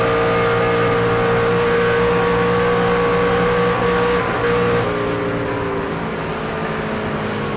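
Craftsman Truck Series race trucks at Pocono Raceway: a loud, sustained, buzzing engine drone at high revs that stays close, its pitch easing slightly partway through, with no talk.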